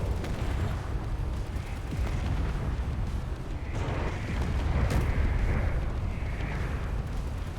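Torpedo explosions in a ship battle in the video game Space Engineers come as a dense, continuous rumble of booms and bursts, with no voice heard.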